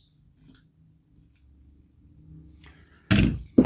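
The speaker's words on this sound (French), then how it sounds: "donc on donne un tout petit coup de cutter en plus" A utility knife gives a set piece one quick extra cut: a short, sharp slicing burst near the end, close up, after a quiet stretch with light handling sounds.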